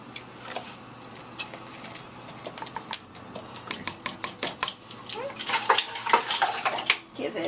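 Mung beans and sugar stirred in a pot, with a run of sharp clinks and scrapes of the spoon against the metal that grows busier toward the end.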